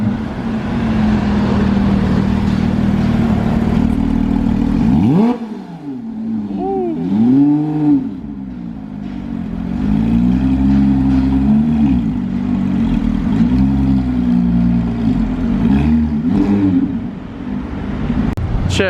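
A Porsche 918 and a Mustang drive past in a convoy, loud and close, with a rising engine sweep followed by revving, wavering engine tones as the cars move by.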